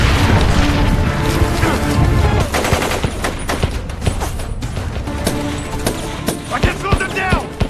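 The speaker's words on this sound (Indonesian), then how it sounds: "Dan disinilah terjadi baku tembak di antara mereka." A film shootout fills the scene with dense, loud bursts of rapid gunfire and booming shots, continuous and chaotic, with mechanical clatter and crashes mixed in.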